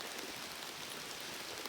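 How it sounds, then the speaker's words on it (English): Light rain on the Appalachian Trail near Great Barrington, Massachusetts, falls as a steady, even hiss of fine drops, close and continuous with no talking. "just getting a little bit of rain now,"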